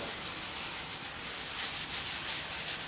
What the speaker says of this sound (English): now just rub the baking soda all over the pork belly skin here